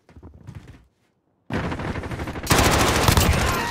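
Rapid automatic gunfire in Call of Duty: Modern Warfare, a short burst, a pause, then sustained loud bursts that grow denser and heavier toward the end.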